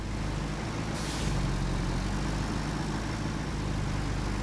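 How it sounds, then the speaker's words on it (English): Semi-truck in the video game RoadCraft, with a continuous loud engine rumble and a brief hissing release of air brakes near the start. "That's a damn semi-truck."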